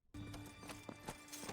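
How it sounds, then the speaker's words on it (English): Horse hooves clip-clop in a quick, uneven rhythm, fairly close, over a low steady hum, starting abruptly after a brief silence. "Hey, it's a horse."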